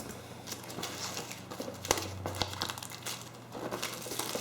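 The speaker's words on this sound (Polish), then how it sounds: "Oczywiście zerwę folię." Plastic shrink-wrap foil crinkling and tearing off a retro game box, a continuous close-up rustle with a couple of sharper snaps partway through.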